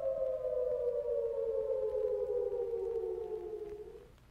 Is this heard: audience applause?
no